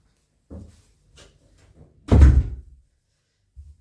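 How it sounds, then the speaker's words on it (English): An indoor door swung shut with a solid thunk, preceded by a few soft handling knocks and followed by quiet, with a faint bump at the end; no one speaks. "just a moment, closing the door"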